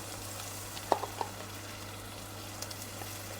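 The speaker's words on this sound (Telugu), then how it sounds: "అల్లం వెల్లుల్లి పేస్ట్ కూడా బాగా ఫ్రై అయింది" Ginger garlic paste fries with onions and tomatoes in a pan, giving a quiet, even sizzle with a few soft stirring clicks and taps near the start.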